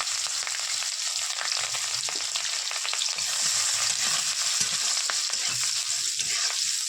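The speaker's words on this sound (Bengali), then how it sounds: "এবার আমি পেঁয়াজ কুচি সাথে লঙ্কা কুচি দিয়ে লাল লাল করে ভেজে নেব।" Chopped onion and green chili fry in hot oil for egg curry, giving a steady, dense sizzle that stays even throughout with faint stirring scrapes and no talk.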